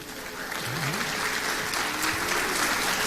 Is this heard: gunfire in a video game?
no